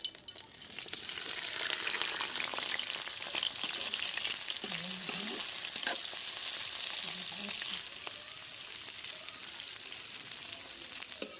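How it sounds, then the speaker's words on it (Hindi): Fish frying in hot oil in a wok: a continuous close hiss and crackle of sizzling, steady throughout, with faint clinks of stirring now and then. "अब तेल गरम हो गया तो मछली डाल के भुंजिल डाल के थोड़ा से तल लेता हूँ।"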